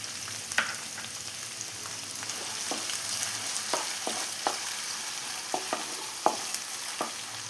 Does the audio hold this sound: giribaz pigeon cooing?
no